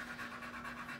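Tired high-energy dog pants steadily after flirt pole play, a fast continuous rhythm of breaths close by, alone and fairly quiet.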